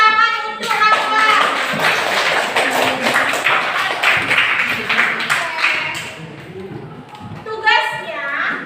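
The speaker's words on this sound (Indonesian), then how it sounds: "Oke, beri tepuk tangan untuk Raka." A classroom of pupils claps for a classmate, a lively uneven round of many small hands close by, with children's voices mixed in and a voice heard near the end.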